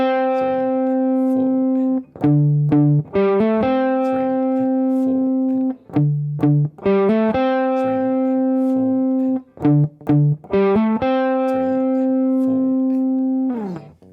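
An electric guitar plays the repeating intro riff of a song, sustained low notes broken by quick runs of higher notes, clear and close with no talking.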